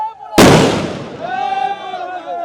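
A sharp loud bang bursts out as party workers set off fireworks at a celebration, followed by a lingering rumble and ringing tones with crowd noise in the background.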